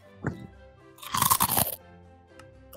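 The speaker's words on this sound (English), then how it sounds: "You're eating hot Cheetos." Hot Cheetos are crunched close to the mic: a small bite, then a burst of several loud, crisp crunches mid-clip, with faint chewing trailing after.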